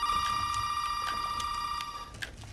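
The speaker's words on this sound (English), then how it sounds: "Phone?" In the Resident Evil 7 video game, a telephone rings with a continuous high electronic trill that stays loud and steady before fading slightly at the end, with no speech over it.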